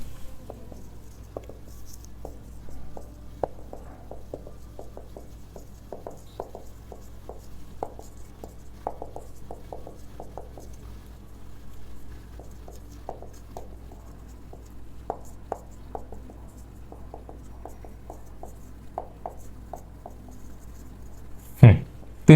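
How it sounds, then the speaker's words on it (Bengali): A pen or chalk writes out a vector math problem, giving soft, irregular taps and scratches in quick clusters with short pauses. It is faint throughout and ends with one sharp knock. "আমি প্রবলেমটা এই পাশে লিখে দিচ্ছি।"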